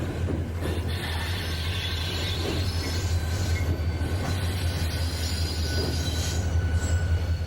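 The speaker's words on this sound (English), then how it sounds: "the helpers come ahead to couple onto the train" A freight train rumbles slowly past with high metallic wheel squeals as SD40-2 helper locomotives couple onto it in the hills east of Pittsburgh, a steady low engine drone underneath; no voices.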